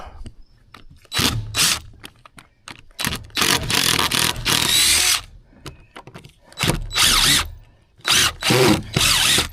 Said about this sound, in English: So we've been pulling out screws.